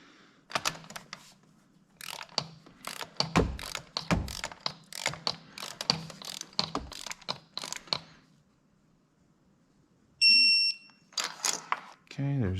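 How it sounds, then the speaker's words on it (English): A torque wrench snugs spark plugs on a Ford Coyote engine from a 2011-2017 Mustang or F150, making rapid bursts of close ratchet clicking, followed by a short high tone and a final clatter. "let's grab our torque wrench here, snug them down to 12 pounds of feet"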